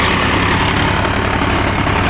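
A Sonalika Tiger tractor engine runs on a rotavator, a loud, steady, dense diesel rumble with a fast low throb, close by and constant throughout.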